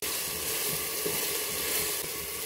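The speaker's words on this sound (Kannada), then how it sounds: "ಈಗ ಟೊಮೆಟೊ ಮೆತ್ತಗಾಗೋ ಥರ ಇದನ್ನು ನಾವು ಫ್ರೈ ಮಾಡ್ತಾ ಇರಬೇಕು" Tomatoes frying in a pan over medium heat, a dense continuous sizzle close up with light stirring, steady and loud throughout, no talking.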